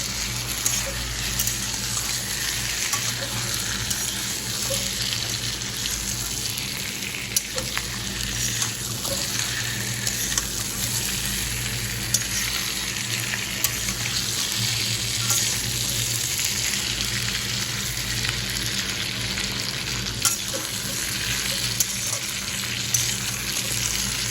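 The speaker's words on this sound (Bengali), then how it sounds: "আলুগুলো একটু মশলার সাথে কষিয়ে দেবো" Washed potatoes fry with spices in a pan for a home-cooked fish dish, a loud continuous sizzle with steady stirring underneath, close by and without talk.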